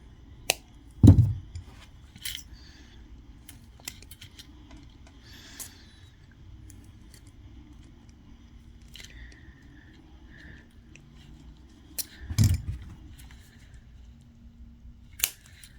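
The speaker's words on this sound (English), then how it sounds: "We're going to snip that off." Wire cutters snip copper wire for a chainmail bracelet: two sharp, isolated clicks several seconds apart in an otherwise quiet room with faint handling noises.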